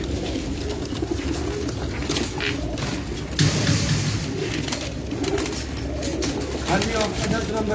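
Pigeons cooing on a rooftop loft, a steady low murmur of soft coos running throughout with some faint background noise and occasional voices nearby.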